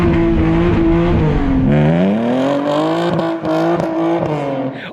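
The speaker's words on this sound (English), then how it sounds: "so it'd be rude not to do a burnout on it" A BMW E36 with an engine-swapped M54 B30 straight-six does a burnout, loud and close, its engine holding a steady high rev with tire squeal, then dipping and climbing again with sharp crackles toward the end.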